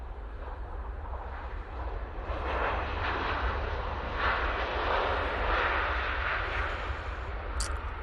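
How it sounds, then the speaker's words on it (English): A Ryanair airliner arriving from Gdansk lands at Manchester Airport with heavy reverse thrust, a loud sustained roar with deep rumble that swells after the first couple of seconds and holds steady. "Ryanair just coming from Gdansk, going heavy on the reverses, really heavy"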